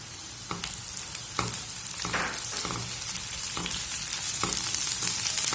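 Green bell pepper sizzles and crackles steadily in a hot pan, with periodic scrapes and stirring clatter punctuating the continuous frying hiss; no voices.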